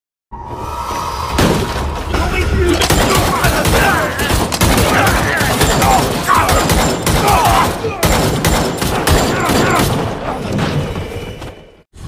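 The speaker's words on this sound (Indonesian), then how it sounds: "Sengaja ia membiarkan distorsi suara renyah menggema yang dihasilkan dari tembakannya" Rapid bursts of loud, unsuppressed pistol shots from two pistols crack in quick succession, each with a sharp echoing tail, ringing through for about ten seconds.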